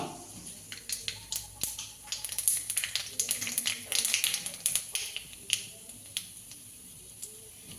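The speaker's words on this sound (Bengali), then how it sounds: "তেলটা গরম হয়ে গেছে একটু কালো জিরা ফোড়ন দেবো" Nigella seeds tempering in hot mustard oil after fish frying, sharp scattered pops and crackles, fairly quiet, clustering densely in the middle before thinning out.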